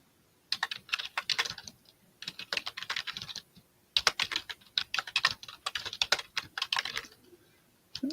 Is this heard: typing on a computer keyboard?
yes